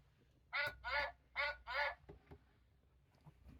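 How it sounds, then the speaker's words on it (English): Four loud, evenly spaced duck quacks from a button on a children's farm sound book, followed by faint handling clicks and a quiet room. "Oh, I like Mother Duck."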